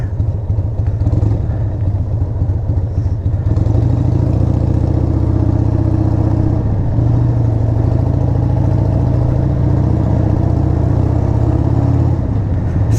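A Harley-Davidson Sportster 1200 motorcycle engine roars loud and close while being ridden, a dense, constant rumbling drone that holds steady for the whole stretch with slight shifts in pitch, with no talk.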